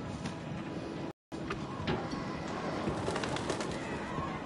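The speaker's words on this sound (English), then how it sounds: "Damn it, crows." Crows call in the video game Until Dawn, several bird cries rising over a steady ambient background, with a brief cut to silence early on.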